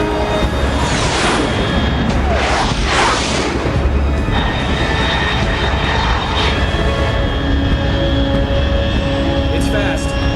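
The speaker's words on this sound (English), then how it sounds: "Unidentified aircraft detected." Video game Metal Gear Solid 3 aircraft passing overhead with a loud, continuous roaring engine rush that swells and fades, with radio-style voices talking over it.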